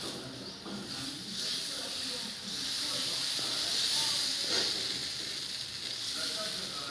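Adai dosa batter, a lentil batter, spread on a hot griddle pan and hissing in a steady, fairly loud sizzle that swells and holds throughout, with no voices.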